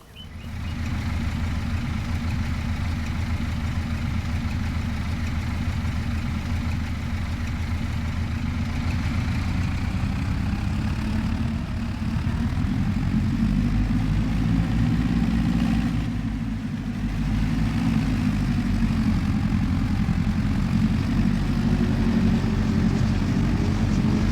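A tractor engine in Farming Simulator 25 idles and runs with a steady low drone, rising slightly in pitch toward the end, with no talk over it.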